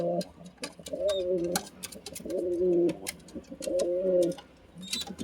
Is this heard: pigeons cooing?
yes